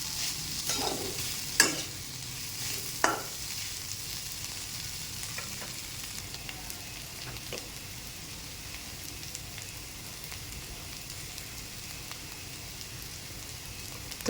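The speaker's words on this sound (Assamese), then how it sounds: "এয়া হালধি দিছোঁ। তাৰপিছত লৰাই দিছোঁ অলপ।" In an iron wok, a fish curry with turmeric and Indian gooseberry is stirred. Soft, constant sizzling runs underneath, and a few sharp spatula scrapes and knocks come early on. No one speaks.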